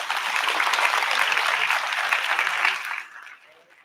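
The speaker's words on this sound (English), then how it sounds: "Let's have another huge round of applause for all the achievements by staff of SDM College of Medical Science and Hospital" Audience applause at the XIth graduation ceremony of SDM College of Medical Sciences and Hospital, a dense sustained clapping from a large crowd that holds steady and then tapers off near the end.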